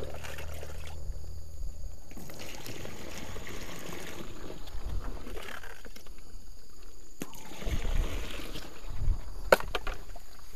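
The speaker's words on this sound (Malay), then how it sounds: "Jadi kita masukkan air dulu dalam ni. Biarkan ada 3-4 gayung dululah." Water scooped with a dipper and poured into a container outdoors, repeated splashing and trickling pours, mid-distance, with no speech.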